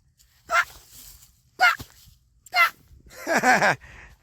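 A small puppy gives three short separate yelps, then a longer whining bark at the end, loud and close, with no speech.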